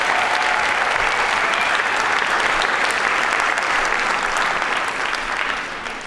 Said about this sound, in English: Everyone give them a big round of applause for being first.